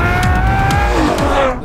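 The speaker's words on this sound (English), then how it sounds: "A naturally aspirated V12 monster." Loud, close roar of a Ferrari 812 Superfast's naturally aspirated V12 engine with high, rising harmonic whine and a hint of tire noise, a single sustained burst.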